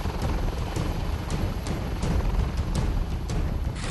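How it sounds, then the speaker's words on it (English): A HAL Dhruv advanced light helicopter flies low in a nape-of-the-earth run, its steady rotor thump and turbine roar loud and continuous throughout. "the advanced light helicopter, Dhruv, is carrying out a nape of the earth flying mission"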